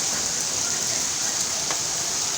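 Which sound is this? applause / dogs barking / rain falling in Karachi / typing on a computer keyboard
rain falling in Karachi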